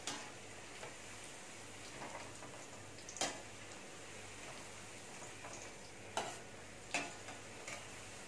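Mutton kola urundai meatballs fry quietly in oil with a low, steady sizzle, punctuated by a few faint clicks and taps of a spoon against the pan.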